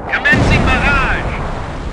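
An artillery barrage in the game Company of Heroes rumbles and booms loudly and up close, with a voice calling out over the blasts.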